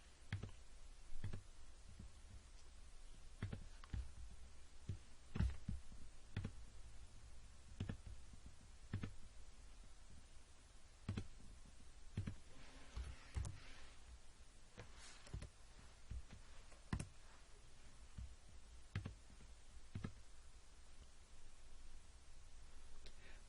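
A computer mouse clicking while values are filled into a form, with sharp isolated clicks at irregular intervals, some in quick pairs, close but quiet over a faint hiss, no talking.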